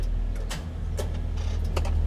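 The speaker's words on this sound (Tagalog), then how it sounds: "Kung maririnig nyo, puro click na lang." Starter of an owner-type Jeep with a drained battery, only clicking instead of cranking: a few sharp separate clicks over a steady low idle-like hum, close up, with no talking.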